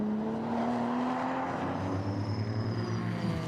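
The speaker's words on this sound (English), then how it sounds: "Some rather guttural rumble of an engine note there." A GT4 race car at Okayama during GT World Challenge Asia qualifying gives off a steady, guttural engine rumble with a shifting note, heard continuously at moderate distance.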